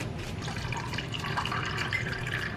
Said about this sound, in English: Look at that, a perfect pour.